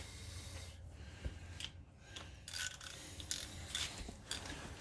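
Faint, close ratcheting clicks come in short runs against low background rumble as brake bolts are tightened on a 2011 Chevrolet Silverado during a brake job, with nobody speaking.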